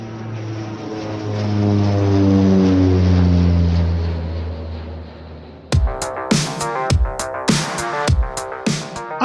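A propeller airplane drones past, swelling to a loud peak and fading, then sharp rhythmic percussive hits and music take over in the final seconds.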